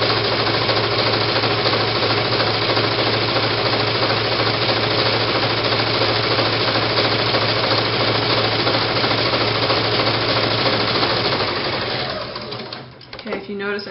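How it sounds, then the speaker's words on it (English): A sewing machine runs a long straight stitch across fabric while sewing ruffle pants, a fast steady mechanical whir that stays constant for about twelve seconds before slowing and stopping. "you're just going to go all the way across with a long stitch"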